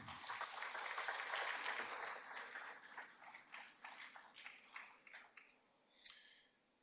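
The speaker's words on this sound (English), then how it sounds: "let's give them another round of applause" Applause from a crowd at a city commission meeting fills the room, steady at first and then thinning into scattered claps that taper off; fairly distant and soft.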